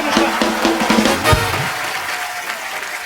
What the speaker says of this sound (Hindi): जोरदार तालियों से अनुष्का का स्वागत है।